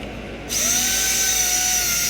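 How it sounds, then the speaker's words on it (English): A power drill bores into wooden trellis support pieces, starting abruptly after a short quiet moment and then holding a loud, close, steady whine until the end. "The bottom support pieces I drilled holes in the edges and also in the middle."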